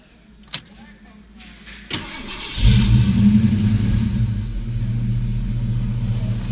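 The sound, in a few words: 1985 Mustang GT engine starting and idling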